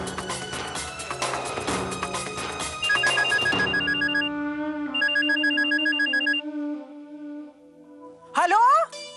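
A telephone rings in a Hindi TV drama, its electronic ringtone chirping in repeated bursts over background music and speech, then falling silent before a short rising tone at the end.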